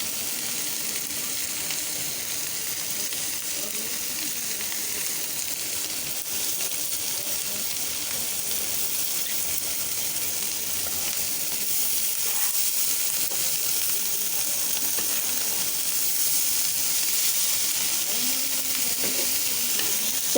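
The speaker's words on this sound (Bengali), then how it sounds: "এখন ডিমটাকে একটু ভেজে নেব।" Two halves of an egg fry in a pan, the oil sizzling in a steady, close, continuous hiss with light stirring scrapes, no voices over it throughout.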